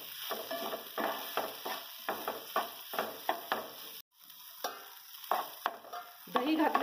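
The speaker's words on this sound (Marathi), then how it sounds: "2-3 मिनिटांनंतर अधूनमधून हलवत राहायची भाजी." Okra cooking in a yogurt curry is stirred in a pan, with repeated scraping strokes of a spoon at a steady rhythm over a soft sizzle. There is one brief pause midway and no talk.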